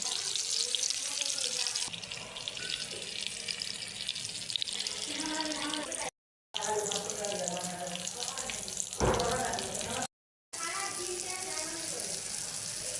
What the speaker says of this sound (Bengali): এবার আস্তে করে এগুলাকে গরম তেলের ভিতরে দিয়ে দিব।